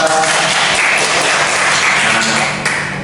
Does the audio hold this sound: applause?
yes